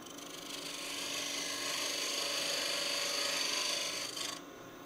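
A detail gouge cuts into a wooden winged box spinning on a lathe, giving a steady, continuous rasping scrape at close range that holds for about four seconds and then eases off.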